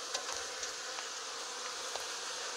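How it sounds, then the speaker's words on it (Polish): Wasps buzz around beehives in an apiary in early October, a faint, steady insect drone with brief louder passes as individuals fly near. "I osy w łance się panoszą."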